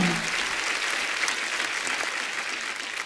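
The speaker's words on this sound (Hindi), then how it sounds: "one of the best actors के लिए एक बार जोरदार तालियां" A studio audience on The Kapil Sharma Show claps steadily and loudly, a dense, even wash of applause filling the room for several seconds without a break.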